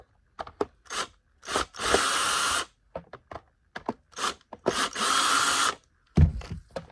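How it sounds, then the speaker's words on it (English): A power drill whirs in two short, close bursts as screws come out of the motor cover of a Bissell Cleanview Rewind Pet vacuum, with clicks and handling noises between. "First things first, you gotta take out these 2 screws that are holding right here."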